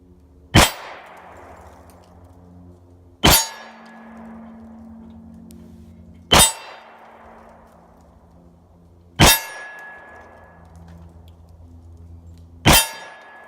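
Five evenly spaced shots with red coated S&S bullets fired at a target 20 yards away, each a sharp, loud clang with a ringing metallic decay, no voices.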